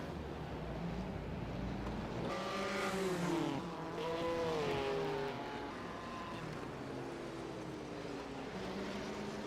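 A Ferrari race car engine from a 1958 F1 racing game at Monaco swells as the car sweeps past, rising in pitch then fading into a distant, wind-tinged drone.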